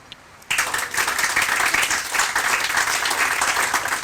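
Audience applause breaks out suddenly after a quiet start and holds as a dense, steady wash of clapping at a community steam plant groundbreaking ceremony.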